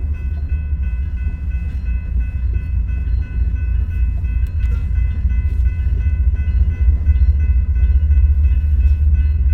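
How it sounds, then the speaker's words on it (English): A freight train on a one-by-one locomotive consist with a rear ES44 DPU, leaving Hobson Yard near Council Bluffs, rumbles low and steady from nearby, a continuous heavy drone with faint metallic tones above it and no voices. "So it's a 1x1 on this Bungie train coming out of Council Bluffs and the Hobson Yard here"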